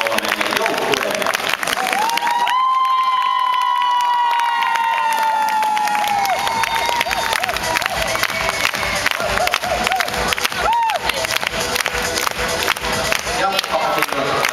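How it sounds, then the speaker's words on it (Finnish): An audience claps and cheers for three teams at a gymnastics awards ceremony, with sustained applause, scattered shouts and children's voices, and a loud announcer-style voice over the crowd for a stretch. "Ja annetaan suuret aplodit näille kolmelle joukkueelle"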